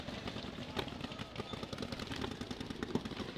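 Planet Eclipse Etha 2 paintball markers fire during a Living Legends 10 picnic table battle: a rapid, irregular stream of sharp pops and clatter that stays busy and moderately loud throughout.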